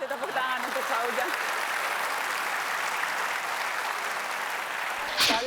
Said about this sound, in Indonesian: Saya kasih tepuk tangan untuk Pak Ujang